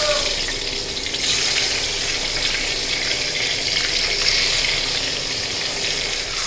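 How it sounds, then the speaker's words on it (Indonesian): Fish frying in hot oil on a stove, a steady close hiss and crackle that continues unbroken throughout. "di sini lanjut goreng ikan teman-teman"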